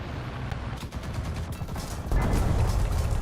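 An IS-4 tank's cannon fires in a video game: a heavy, booming blast lands about two seconds in over a constant rumbling battle background, with no speech.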